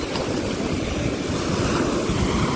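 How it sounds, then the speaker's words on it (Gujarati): High sea waves at Dwarka crash against rocks in a constant, loud, rushing roar of surf that continues without a break. "આવ્યો ઊંચા મોજા આવ્યા"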